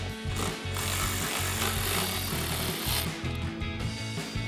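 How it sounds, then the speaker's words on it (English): Ratchet fitted with a long-shank T15 Torx bit backing screws out of a 2015-2023 Dodge Charger tail light, giving a steady grinding, clicking mechanical rattle that runs loud and close for several seconds with brief pauses. "So we've got a long shank T15 Torx bit on our ratchet."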